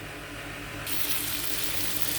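Tap water runs steadily into a kitchen sink as a continuous hiss that grows louder partway through, heard close with no talking.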